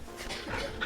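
A dog panting quickly while being petted in the Final Fantasy XVI video game, a short burst of close, breathy huffs.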